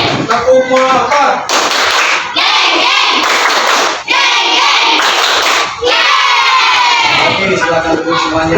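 A standing class repeats the 'tepuk motor' clapping chant, voices loudly imitating a revving motorbike in bursts, punctuated by sharp group claps and shouts, close and energetic.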